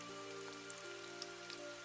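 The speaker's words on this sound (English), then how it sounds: "The rain kept falling." Steady rain falls in a soft, even patter, quiet and unbroken throughout, with faint sustained tones held underneath.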